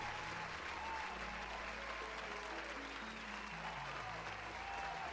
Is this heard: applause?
yes